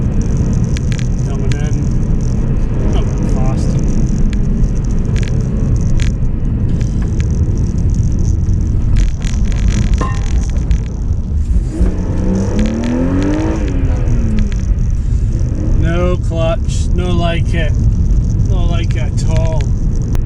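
A budget winter drift car with a slipping clutch revs hard in second gear, the engine droning loudly and continuously with rising and falling whine while someone talks over it.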